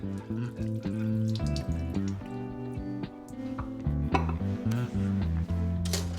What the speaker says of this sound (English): then drain off the excess liquid